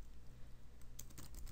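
Brief burst of keystrokes on a computer keyboard, quiet rapid clicks after a moment of near silence, with no talking.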